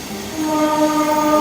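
A train horn sounds with a steady multi-tone blast over the rumble of a train, moderately loud and somewhat distant.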